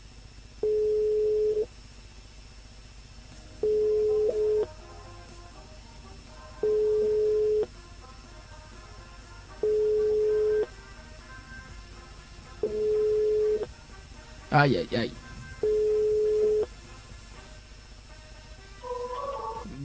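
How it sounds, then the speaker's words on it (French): A telephone busy signal during a live TV show: six steady, evenly spaced beeps, each about a second long with equal gaps, cut by a brief spoken exclamation near the end. "faut décrocher le téléphone pour ce soir."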